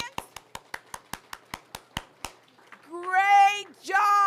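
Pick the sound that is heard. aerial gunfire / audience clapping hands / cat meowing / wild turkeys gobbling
audience clapping hands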